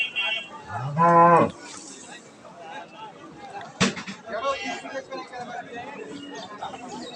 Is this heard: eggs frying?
no